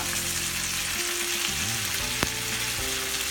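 Cooked bucatini pasta tossed in hot oil in a pan, a dense steady sizzle with stirring and scraping, close up, plus one sharp clink partway through.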